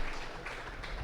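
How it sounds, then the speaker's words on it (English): Audience applause for the Illinois Simmental Princess at a cattle sale in Shelbyville, Illinois: a brief, steady wash of clapping from a crowd, fairly soft and continuous throughout. "Let's give Jade a nice round of applause"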